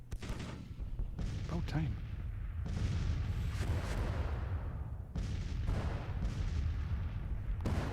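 Civil War battle in a strategy game: musket volleys and artillery booms roll in overlapping bursts, heavy and continuous, with someone talking briefly over the din.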